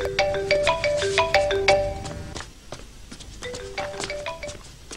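Electronic ring tones chime in a repeating melodic pattern, loud and close for the first two seconds, then pause and resume more softly, with no talk over them.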